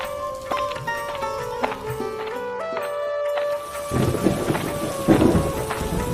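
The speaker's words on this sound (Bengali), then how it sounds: "এই রে, বৃষ্টি যে খুব জোরে নামছে" Heavy rain and rumbling thunder fill a cartoon scene, opening under sustained musical tones before a louder surge of rain noise takes over.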